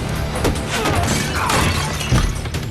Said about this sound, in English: there's a classic Wet Hot American Summer sound effect of a pot smashing like 5 minutes into the movie